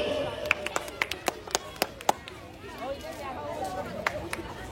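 Audience at a Christmas celebration in Serampore clapping in scattered, uneven bursts over the steady murmur of crowd chatter and talking voices.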